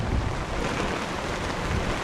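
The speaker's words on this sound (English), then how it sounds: "no matter where, it's still windy" Strong wind at the Peace Walls buffets the microphone in a constant, heavy roar with a deep rumble and no pauses.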